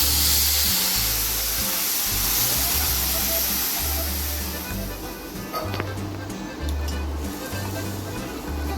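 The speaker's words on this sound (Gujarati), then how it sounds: "આપણે પેલું દૂધ કે પાણી ઉપર નાખીએ એટલે એકદમ છમ અવાજ આવે છે" A milk and water mixture hits a hot pan of moraiya, giving a loud, continuous hiss and sizzle that slowly eases off over several seconds, with no talk.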